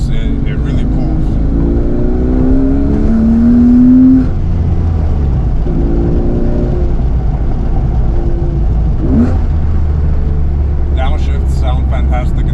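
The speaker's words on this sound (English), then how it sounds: "And when you get on the gas, it really pulls." Engine of a 996-generation Porsche 911 Carrera 4S pulling hard under acceleration, a loud steady drone with rising revs heard from inside the cabin, a brief lull near the end.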